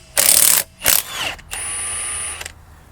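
A ratchet works on lug nuts to remove a Jeep TJ's wheels, giving close, loud bursts of rapid clicking in several separate pulls with short pauses between them.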